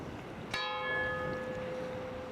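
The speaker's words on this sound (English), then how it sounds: "That ghostly bell." A single bell near Puffin Island strikes once, fairly faint and distant, its long ringing tone hanging and slowly fading over a quiet outdoor background.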